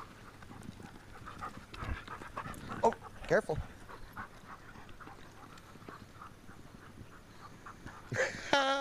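Dogs pant rapidly while playing together, with scuffling and occasional bursts of movement; a person speaks briefly nearby.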